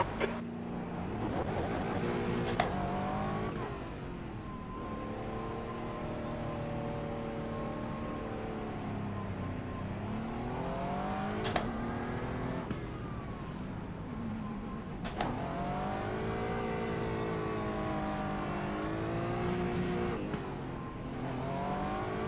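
An Aston Martin GT4 race car in a racing game at the Nürburgring Nordschleife, its engine revving up and down through gear changes with rising and falling pitch, sharp shift blips, continuous and moderately loud with no voices.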